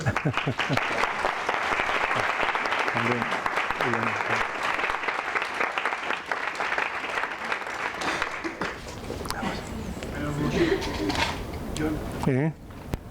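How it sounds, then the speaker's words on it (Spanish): An audience at the Second National Spiritist Congress in Zaragoza applauds a speaker with sustained, loud clapping that fades after several seconds, followed by people talking. "Un aplauso para Jon."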